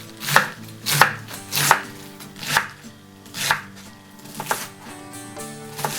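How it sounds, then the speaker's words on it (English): A knife slices a quarter of a red cabbage into fine strips on a board, crisp chops landing in an uneven rhythm, about eight distinct cuts close up, with soft background music underneath. "Just chop that into fairly fine slices."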